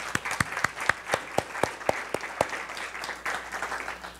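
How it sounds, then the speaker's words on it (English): Audience applause for cadet band members, with distinct individual claps landing in a fairly steady rhythm over a low room murmur. The claps are moderately loud and carry on for about four seconds before thinning out. "they deserve a real round of applause"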